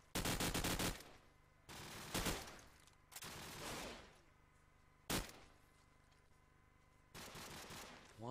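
Automatic gunfire in the video game Call of Duty 4 during a competitive match, heard as several loud bursts of rapid shots. Quieter gaps between the bursts carry low background noise.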